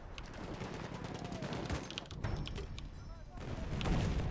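Gunfire in the video game Battlefield 1, a dense run of shots and blasts of fusillade and machine-gun fire crackling throughout, with someone talking over the shooting.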